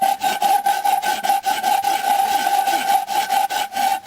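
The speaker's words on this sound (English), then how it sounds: "So I'll work all that down with a file." A metal hand file rasps steadily across an engine part on a 1937 Maytag model 72 engine, smoothing down hammer-damaged high spots; close, repeated back-and-forth strokes in an even rhythm, with no talking.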